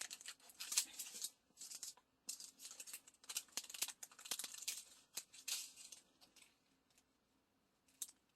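Scissors snipping through material during a diamond painting craft, a run of close, crisp cuts in quick bursts with short pauses, quiet and without talk, ending with one last isolated snip.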